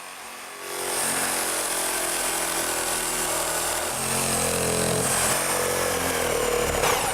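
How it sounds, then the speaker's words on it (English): A reciprocating saw starts up and cuts steadily into a wall, a loud, continuous buzzing drone that holds for several seconds close by, without talk. "Now, have you ever used a reciprocating saw before?"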